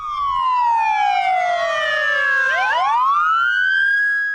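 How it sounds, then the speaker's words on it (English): A loud, continuous ceremonial siren salute wails on its own, its pitch sliding steadily downward, then sweeping back up and holding high. "The day was also marked with a siren salute."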